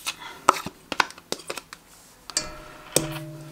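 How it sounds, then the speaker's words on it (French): Mascarpone cream being mixed in a bowl, with irregular close clicks and taps of a utensil against the bowl coming in short, uneven bursts. "J'étais en train de mélanger ma crème"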